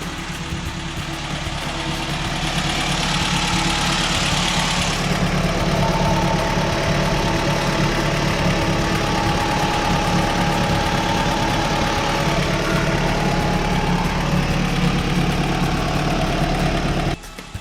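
An engine idles with valve clatter, a steady mid-pitched running drone with a rapid ticking rattle that continues throughout and stops briefly near the end.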